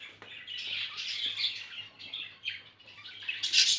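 Aviary birds squawk and chatter together during a nest check, a dense, steady flock of shrill calls close by with louder bursts near the end and no talking.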